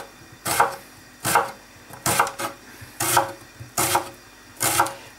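A knife chops an onion on a cutting board in six evenly spaced, crisp strokes, each a sharp knock with a short crunch, close and clear with no talk.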